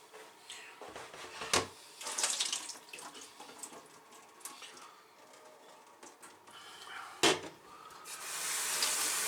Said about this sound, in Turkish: Bunu hemen arkadaşlar yıkayacağız, süzeceğiz.